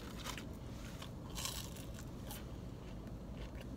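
Wendy's breakfast potato wedges are bitten and chewed close up, giving soft crispy crunches and crackles over a low background rumble, with no talking.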